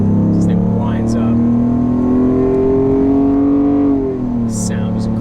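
A 2001 BMW 750iL Dinan-7 accelerates hard at full throttle, its engine note climbing steadily in pitch as it winds up, then easing off near the end, loud and close, with a voice talking over it.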